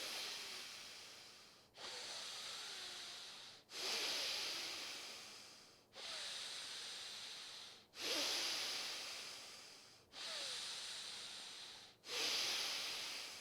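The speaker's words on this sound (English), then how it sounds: "you'll be breathing in and out through the left side" Slow, deliberate breaths through the left nostril, with the right nostril held closed, each inhale and exhale a close, hissing rush of air, repeating about seven times in an even rhythm.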